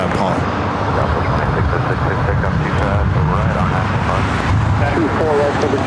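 Airplane taking off from runway 24 right at LAX, a steady broad engine roar that holds without a break, with people talking over it throughout.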